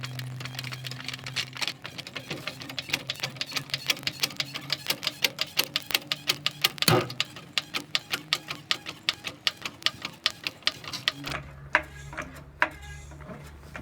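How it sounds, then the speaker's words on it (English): A hand jack is pumped to lift a 2017 Ford F150 pickup, making a steady run of sharp ratcheting clicks at a regular pace, close by and loud, with one brief louder clank partway through. "we'll start by jacking it up"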